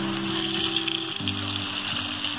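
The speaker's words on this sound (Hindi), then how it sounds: "अब हमने इन फ्राइज को तेज आग पे फ्राई कर लेना है" Chicken fries frying in hot oil over high heat, a steady close sizzle that runs without break, with a low hum of the stove beneath.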